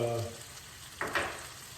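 Garlic and capers frying in a pan, a soft steady sizzle with a brief louder crackle about midway, under low room noise.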